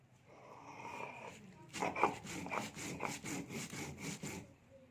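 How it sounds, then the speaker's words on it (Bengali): Whole cumin seeds being ground into paste on a stone, a close, faint rhythmic scraping of repeated back-and-forth strokes that grows busier after a quiet start. "নিয়ে নিয়েছি গোটা জিরায় বেটে নেব"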